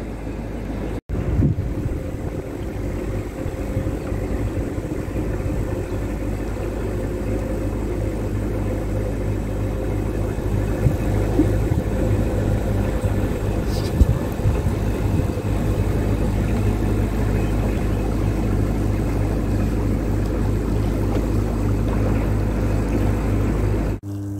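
A steady, droning narrowboat engine chugs along for the whole stretch while cruising a canal toward Coventry Basin, with a low rumble and some wind noise over the microphone.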